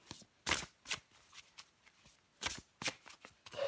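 Tarot cards are shuffled and drawn in several soft, close riffling bursts separated by short pauses.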